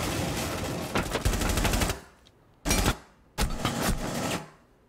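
Automatic gunfire from Jaeger in Rainbow Six Siege comes in three loud bursts. A long burst of rapid shots is followed by two shorter volleys with brief silences between, close and with no talking over it.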